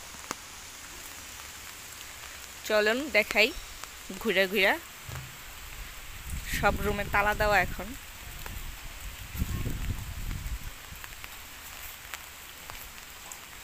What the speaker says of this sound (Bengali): এই যে দেখেন বৃষ্টির ফোঁটা পড়তেছে